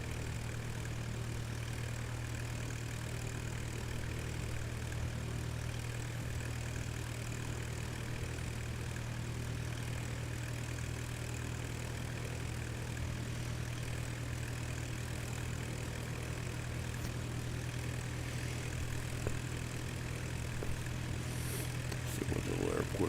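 Steady drone of a small propeller airplane in flight at about 2,500 feet over mountains, a constant low engine hum filling the cabin throughout with no talk.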